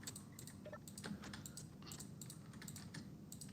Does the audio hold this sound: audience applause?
no